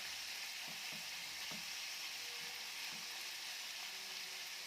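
Chicken pieces for a filling lie spread in a pan without turning, giving a quiet, even sizzle with occasional light clacks of a utensil against the pan.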